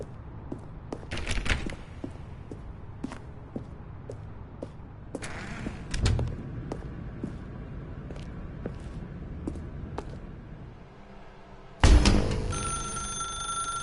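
In The Stanley Parable, a telephone rings with sharp repeated bell bursts amid game ambience and footsteps, ending in a loud, sudden ring that lingers.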